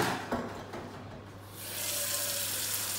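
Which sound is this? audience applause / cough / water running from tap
water running from tap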